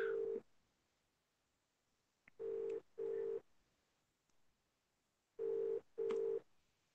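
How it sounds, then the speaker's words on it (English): An outgoing phone call rings on the line: paired bursts of a steady electronic ringback tone repeat with silent gaps between, clean and fairly loud, with faint clicks in the pauses. "Ringing in now."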